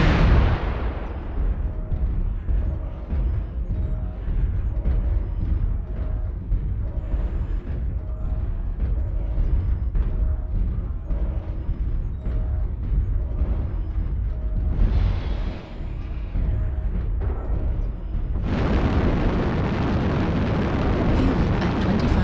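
Missile explosions rumble steadily around a mech in a combat game, a long, loud barrage of deep booms and roaring blasts, building to a harsher, brighter burst near the end, with no talk over it.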